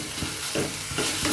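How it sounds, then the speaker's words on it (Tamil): Ginger, green chillies and curry leaves being sautéed in hot oil for a Kerala-style ginger tamarind dish, giving a steady close sizzle broken by a few soft stirring scrapes. "இந்த எண்ணெயில் இந்த இஞ்சியும் பச்சை மிளகா கருவேப்பிலை 3 சேர்ந்து வதங்கும் போது"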